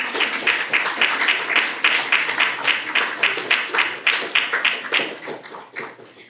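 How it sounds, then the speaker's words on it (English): A graduation audience at the UC Berkeley Master of Development Engineering ceremony for the Class of 2025 claps together. The dense, steady clapping carries on for several seconds, then thins and fades near the end. "give a round of applause to everyone who has supported us along the way"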